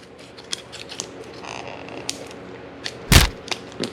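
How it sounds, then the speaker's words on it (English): Scissors cutting open a mailed package holding a motorcycle kickstand pad, with a series of sharp, close snips and creaks that build to one loud, heavy crunching cut near the end, with no talking. "I'm just going to cut this package open"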